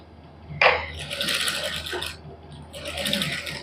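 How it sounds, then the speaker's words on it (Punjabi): A sewing machine runs in two close, rapid bursts, stitching zigzag lace onto a plain suit, with a short pause between runs. "ਇਹਦੇ ਉੱਪਰ ਲਾ ਦਾਂਗੇ ਆਪਾਂ ਸਲਾਈ"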